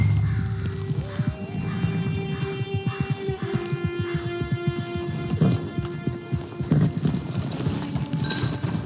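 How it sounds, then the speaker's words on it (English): Rhythmic clip-clop of horse hooves in the video game Red Dead Redemption 2, a steady close trot with a whinny and snorts mixed in, over faint ambient game music and no speech. "Get your horse."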